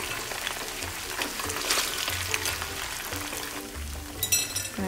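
Pork ribs lightly coated in cornstarch frying over low heat in a pan for sweet and sour ribs, giving a steady close sizzle with a few faint clinks and no talk.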